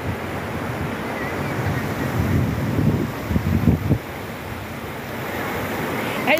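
Water rushing in a shallow stream current at a Laguna spring, a steady broadband wash with a few brief splashes, close and continuous, wind buffeting the mic at times.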